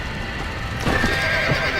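Horses whinny and neigh in a burning barn in Red Dead Redemption, over a dense, continuous rumble of hooves and commotion, with a louder neigh rising partway through.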